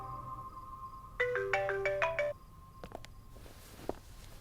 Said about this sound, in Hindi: दादी का फोन है,